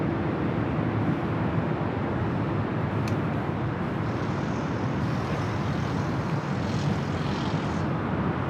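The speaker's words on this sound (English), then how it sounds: "Avianca doing a little back taxiing." Avianca airliner taxiing at Los Angeles International Airport, a steady broadband jet engine rumble that holds at a constant level throughout, with no voices.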